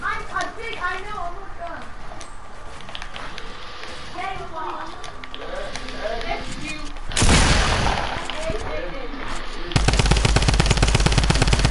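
Rapid bursts of automatic gunfire crackle in a video game, growing louder and denser toward the end, while young players chatter over the shots.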